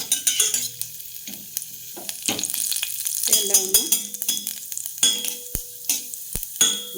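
Chana dal and urad dal crackle and sizzle in hot oil in a pan, punctuated by repeated sharp metallic clinks and scrapes from a spoon stirring, loud and close.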